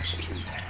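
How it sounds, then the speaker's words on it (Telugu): Masakali pigeons coo softly in a low, sustained murmur, heard briefly and alone with no one talking. "ఇవి మసక్కలి పావురాలండి, బాగున్నాయి కదా."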